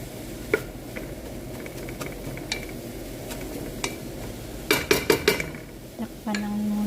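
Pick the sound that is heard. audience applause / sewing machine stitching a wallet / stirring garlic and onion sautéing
stirring garlic and onion sautéing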